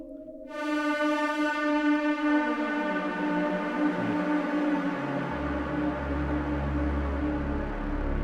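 A bright, buzzy synthesizer supersaw chord enters and sustains, thick and harmonically rich, with low notes sliding down beneath it.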